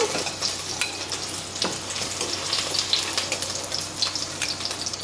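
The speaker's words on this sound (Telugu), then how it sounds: "షాలో ఫ్రై చేసుకుంటే సరిపోతుంది." Shallow frying in oil gives a busy, continuous crackle and sizzle, close and fairly loud, with scattered sharper pops and spatters.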